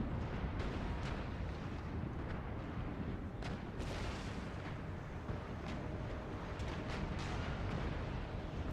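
Naval cannon fire in Empire Total War, where broadsides boom and crack again and again through a constant roar of battle, each shot sharp and mid-distance, with no talk.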